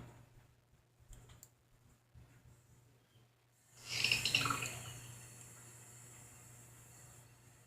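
Rinse water swirls and pours off quinoa in a bowl: near-silence, then a sudden close splashing gush that fades into a soft trickle.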